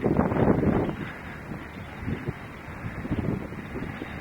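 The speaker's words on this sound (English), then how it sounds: "Wind." Outdoor wind buffets a microphone on a street in St. Thomas, giving a heavy low rumble for the first second, then softer, gusty bursts of blustery noise that rise and fall.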